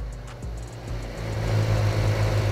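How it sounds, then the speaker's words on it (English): A Mercedes-AMG Project One hypercar exhaust in the Roblox game Driving Empire, a low steady engine drone that swells slightly louder toward the end, heard alone. "And this is the exhaust."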